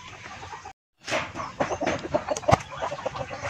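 Chickens being fed banana pith and leaves cluck nearby in a busy, overlapping flurry, with a brief dropout near the start before the clucking resumes, loud and continuous.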